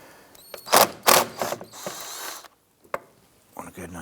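An 8mm socket wrench loosens a bolt on a Ford Five Hundred during ignition coil work, giving close, sharp ratcheting clicks in a few quick bursts, then scattered metallic handling noises.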